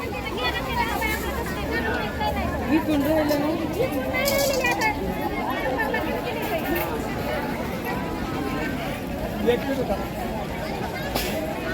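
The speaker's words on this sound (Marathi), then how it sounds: "हा आहे आमच्या कळमचा सोमवारचा बाजार फुल एकदम गर्दी" Crowd bustle at the busy Monday market in Kalamb town, a dense continuous babble of many overlapping voices with occasional clatter, close and fairly loud, while someone nearby speaks over it.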